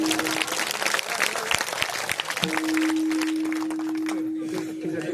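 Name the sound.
audience clapping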